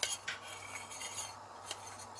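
A spoon stirs custard powder mixed into milk in a pot, soft scraping and occasional metal clinks close by, with no one talking.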